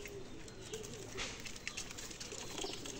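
Teddy pigeons coo softly at close range, with low throaty murmurs over a hissy background and no talking.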